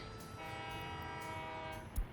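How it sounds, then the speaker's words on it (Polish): A train in the Soviet-era city-building game Workers & Resources: Soviet Republic sounds a loud, steady horn for about a second and a half over faint rail rumble, with no talk. "uruchom pociąg, bo ja go, aha, bo ja go wstrzymałem przez przypadek"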